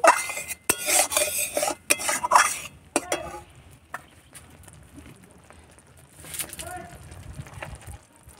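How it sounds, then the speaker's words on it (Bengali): A spoon stirs and scrapes through spice masala frying in a pan with a little added water for prawn dopiaza, giving repeated rhythmic metallic scrapes and clinks, busiest early, then quieter sizzling with occasional strokes. "দিয়ে মশলাটাকে ভালোভাবে আর একটু করে ভালো করে কষিয়ে নিচ্ছি।"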